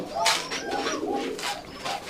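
Pigeons coo in soft, repeated throaty calls, close by, a few overlapping bursts over about two seconds with no talking.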